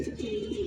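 Young pigeons settling at a loft, with a short, close, steady cooing murmur from the pigeons.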